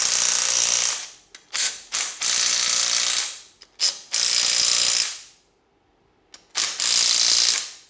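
A hand ratchet with a 12mm socket bursts tight bolts loose on a Yamaha Banshee engine case, giving several loud, close runs of rapid clicking separated by short pauses and one longer gap.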